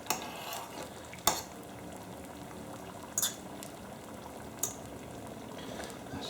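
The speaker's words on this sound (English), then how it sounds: "we'll give it a stir and get the butter all nicely melted in there" Butter melts in a pan while being stirred for spicy Italian meatballs, giving a soft steady bubbling sizzle with a few sharp utensil scrapes against the pan.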